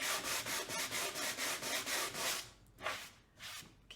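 Hand sanding on new wood being distressed for a rustic painted lake porch sign: a steady series of rhythmic back-and-forth scrubbing strokes, close and fairly loud, pausing near the end before two more separate passes.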